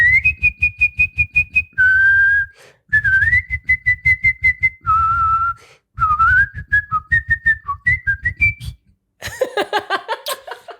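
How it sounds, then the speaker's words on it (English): A person whistles the Queen of the Night aria, loud and close, with fast staccato runs of repeated notes and sustained high tones broken by brief gaps, ending in a rough, breathy attempt. "Do you want to whistle something else?"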